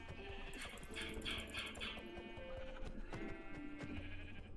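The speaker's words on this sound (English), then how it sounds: "there's a couple sheep down here by the coast." Sheep bleating in the Minecraft video game, several short wavering bleats spread across a few seconds, fairly faint over quiet game background sounds.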